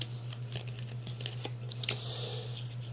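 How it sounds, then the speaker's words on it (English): Playing cards are shuffled by hand in an unusual way, mixing face-up and face-down cards, giving soft crinkly riffles and light flicks in quick irregular bursts over a low steady hum. "I'm also going to end up shuffling the cards up a different way"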